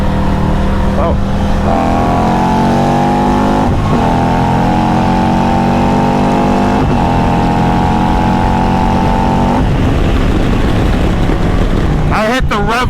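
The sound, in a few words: motorcycle accelerating hard, hitting the rev limiter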